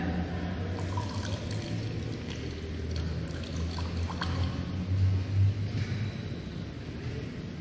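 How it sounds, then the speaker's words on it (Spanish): Unsalted water poured into a container holding an egg for a water density experiment, a soft continuous splashing trickle with small drips, fairly quiet and close, with no talking. "ahora vamos a ver qué pasa cuando yo le vierto el agua sin sal"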